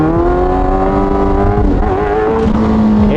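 Motorcycle engine revving hard and continuously for a clutch-up wheelie, steady loud rising and falling pitch filling the whole stretch with no talk.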